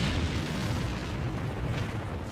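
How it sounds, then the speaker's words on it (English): A volcano-like eruption explodes in a continuous, loud, deep roaring blast. The rumble stays dense and sustained for the whole stretch, with no voices over it. "and it causes an explosion."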